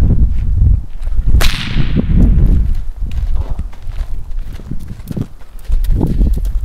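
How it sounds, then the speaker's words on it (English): Sharp, loud cracks of a whip snapped near a horse during groundwork, with several crisp reports amid shuffling hooves and ambient noise. "I like to take a whip here, and I'm just going to walk around the crowd a little bit and make some loud noise"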